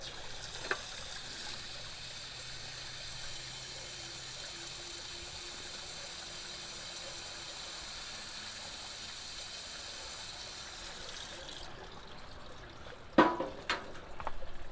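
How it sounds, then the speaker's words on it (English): Water pours from a plastic bottle into a potted plant as a steady, soft trickle that runs for several seconds, then stops, followed by a few faint handling knocks. "I'm going to pour a little bit of water in there."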